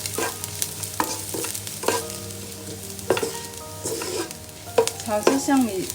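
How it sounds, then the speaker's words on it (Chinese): Scallions and garlic stir-fried in a pan over the lowest heat, with a steady soft sizzle and repeated spatula scrapes and clinks close by and no talking. "所以我们开最小火炒香"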